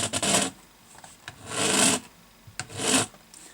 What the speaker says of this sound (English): I'm just filing them flush, being very careful not to file the fingerboard